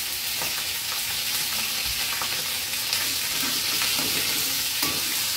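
Meat drops into hot golden-brown oil in a pan and fries with a steady, close hiss and sizzle. Occasional pops and stirring clatter come through, with no talking.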